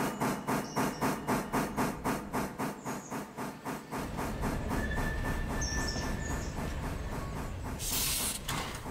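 Passenger train creeping slowly into a station in a 1950s U.S. railway simulation game, with a steady rhythmic clickety-clack of wheels on rail joints, a low rumbling engine and occasional hissing steam, heard alone without talk.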